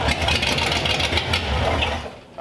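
A 1934 Ford Delivery engine cranks and catches, rough rhythmic churning turning into a loud uneven run before dropping away briefly at the end.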